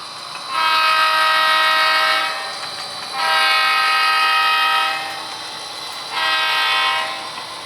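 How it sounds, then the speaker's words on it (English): A model railroad locomotive horn sounds three times during a switching session, two long blasts followed by a shorter one, loud and close with steady harmonic tones and no talking. "I swear I think I'm going to change all my locomotives to that horn."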